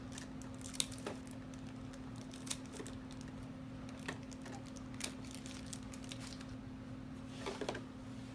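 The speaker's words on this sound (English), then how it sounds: "Let me go ahead and cut this other piece off." Scissors cut through the plastic packaging of a Hot Toys Dr. Strange figure, giving several faint, separate snips and clicks spread over a few seconds above a steady low hum.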